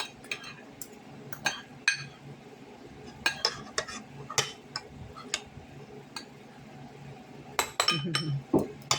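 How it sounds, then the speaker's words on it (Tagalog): A utensil stirring and beating egg with corned beef for an omelette, a series of quick clinking taps against a bowl in an irregular rhythm, close and fairly crisp, with faint background sounds between strokes. "Yung hinahalo ko talaga na parang mga pino na yung itlog."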